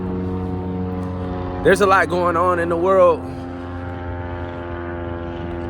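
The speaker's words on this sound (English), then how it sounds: "a plane going over above right now" A propeller airplane flies overhead, its steady droning hum running through the whole stretch while someone speaks briefly over it near the middle.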